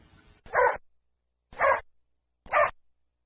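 Three evenly spaced single dog barks, sharp and close, separated by near silence, after a brief faint rustle at the start.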